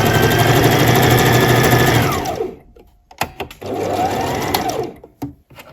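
A sewing machine stitches scrunchie fabric in two fast, steady bursts of rapid mechanical whirring, pausing briefly between runs, close and loud.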